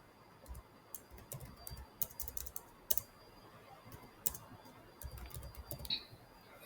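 Quiet keystrokes on a computer keyboard while Java code is entered, a steady run of soft irregular clicks with a few sharper taps, fairly close and alone.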